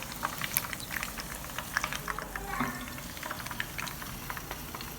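Chicken pieces for restaurant-style chili chicken frying in hot oil in a home kitchen, a steady low crackle and bubbling with scattered pops throughout, moderately close and unbroken by talk.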